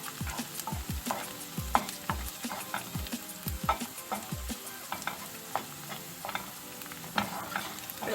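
Potato börek filling is stirred in a pan with salt, black pepper and chili flakes. A spoon scrapes and clacks steadily against the pan over a soft sizzle, close and fairly quiet.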